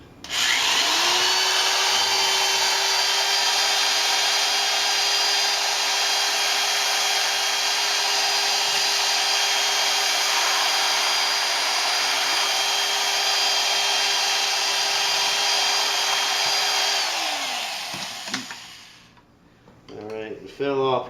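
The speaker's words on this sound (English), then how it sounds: "I already hooked up my drill thing and sanitized it" A drill-driven aerator whirs steadily in a yeast starter of homebrewed beer wort, a loud constant high-pitched motor whine that runs unbroken for most of the stretch before cutting off, followed by brief clatter and a voice.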